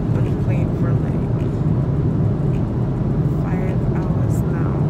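Steady, loud broadband roar of an airplane cabin during a long flight, constant engine and air rush with faint murmurs of other voices under it.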